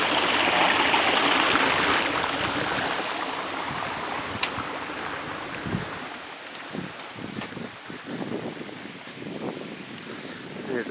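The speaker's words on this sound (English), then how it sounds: "Gotta love a good waterfall." A waterfall roars as broadband rushing water that is loudest at first and then eases, with wind buffeting the microphone and scattered rustles and knocks over the steady wash.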